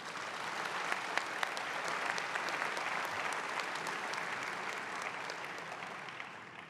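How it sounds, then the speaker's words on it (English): A crowd at a conference opening ceremony applauds for a hardworking organizer, with sustained, even clapping from a sizable audience and occasional sharper claps, slowly fading near the end. "I think everybody should clap for how hard he works one more time"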